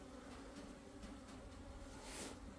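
A black hornet buzzes around a beehive in late autumn, a continuous droning hum with slight swells as it moves, heard close amid a soft outdoor background and no voices.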